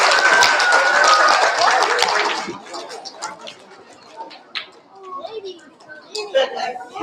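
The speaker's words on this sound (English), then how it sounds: "You guys give her a round of applause." An audience at a school kindergarten and first grade awards assembly claps in a loud burst of applause that fades after about two seconds, leaving scattered claps, chatter and voices in the hall.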